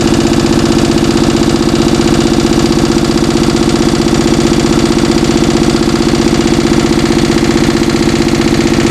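A 65-year-old Onan diesel generator set runs steadily at idle while warming up, a loud, close, continuous low throb with a fast even knocking pulse and no talk over it.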